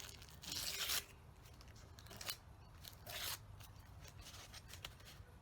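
Tissue paper for a journal collage is handled and torn in a quiet room, producing a couple of close, crisp ripping bursts amid soft rustling and crinkling.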